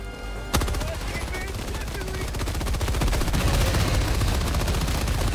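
Weapon fire in the video game Helldivers 2, a sudden onset of loud rapid automatic shots that keeps going in a dense continuous stream, growing slightly heavier toward the end.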